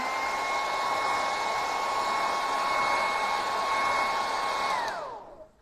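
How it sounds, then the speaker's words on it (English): A hair dryer blows with a steady high whine and airy rush, running continuously for several seconds before switching off and winding down. "We'll hit that with the hairdryer really quickly."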